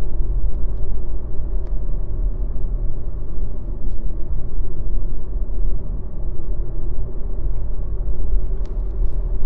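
Inside a VW e-Golf at 65 km/h on a country road, a steady low rumble of tyre and road noise fills the cabin with no engine note and only faint occasional ticks.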